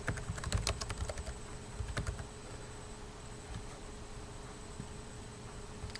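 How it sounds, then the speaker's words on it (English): Keystrokes on a computer keyboard as a database record is entered, a quick burst of close, crisp clicks in the first two seconds, then sparser, softer taps over a steady low hum. "I'm just going to go ahead and type in this record and just move right down the line here"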